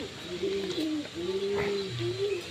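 Pigeons coo in clear, sustained low calls while being fed grain in the afternoon, several drawn-out coos following one another close by with little else around.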